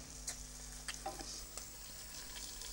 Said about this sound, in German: braten die Rösti kross. Ja, die werden jetzt von beiden Seiten kross gebraten